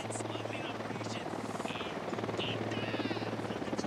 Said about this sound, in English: Who need that chopper?